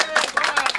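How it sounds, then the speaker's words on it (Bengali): A small crowd claps briefly at Gabtoli cattle market in celebration of a cow purchase. The claps come in a short, uneven burst of close hand claps. "হাততালি হয়ে যাক।"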